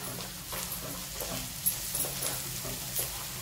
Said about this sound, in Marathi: हे आपण आवर व्यवस्थित परतून घेणार आहोत तेलामध्ये.